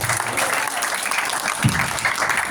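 Church youth congregation clapping together during a revival service, a dense, energetic burst of applause with a low thump partway through and voices mixed in.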